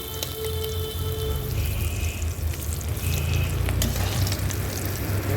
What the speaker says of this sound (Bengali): তার জন্য একটু কড়া করে ভাজবো